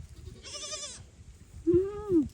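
Goats on a goat farm bleat twice, a higher wavering call followed by a lower one, close by and fairly faint against a quiet background.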